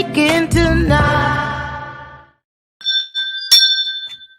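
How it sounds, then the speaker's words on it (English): A bell rings out loud and close with a rich, sustained metallic tone that fades over two seconds, then a pause before thinner, higher chimes and a sharp ding follow, with no voices. "every morning I ring the bell telling y'all to wake up"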